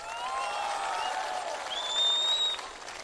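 Applause from a crowd at an outdoor political rally, steady and moderately loud throughout with a faint whistle-like tone over it and no clear speech.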